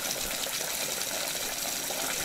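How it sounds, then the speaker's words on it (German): Tap water spraying in all directions from a clogged, limescale-encrusted faucet aerator, a steady hissing gush with no pauses and no talking. "Kaum hat man das Wasser an einem Wasserhahn aufgedreht, spritzt das Wasser nach allen Seiten, statt in einem Strahl nach unten zu fließen."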